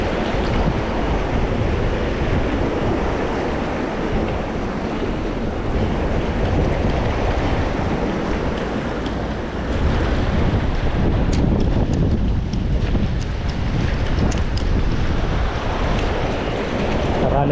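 Strong wind roars steadily against the microphone at the shore during high tide, mixed with the wash of surf, loud and continuous with no talking.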